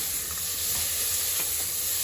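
Rice fried with a little salt in a pressure cooker for vegetable pulao sizzles in a steady, close hiss, with faint stirring scrapes running through.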